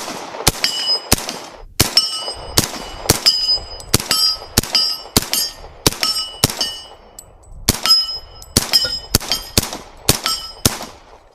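A CMMG Banshee .45 with an 8-inch barrel fires at a range, about twenty sharp close shots in an uneven rapid string, each followed by a metallic ringing clang, with no talk.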